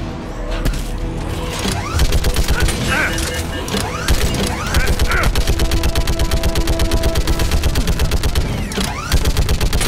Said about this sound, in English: Yeah, I know I'm shooting you.